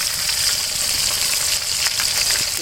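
Marinated chicken fries in oil outdoors, a steady dense sizzle and crackle filling the whole clip at close range with no talking.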